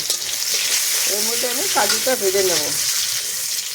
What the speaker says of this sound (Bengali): এবার এর মধ্যে আমি কাজুটা ভেজে নেব